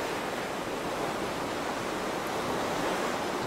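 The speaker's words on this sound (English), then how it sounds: "Y'all hear that ocean?" Ocean surf rolls in as a steady, full wash of breaking waves, loud and close with no pauses and no voices over it.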